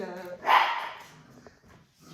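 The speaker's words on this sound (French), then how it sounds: "les chiens qui se mettent à aboyer." Dogs bark in the background of a quiet room, one prominent bark followed by fainter, scattered sounds, moderately distant and not very loud.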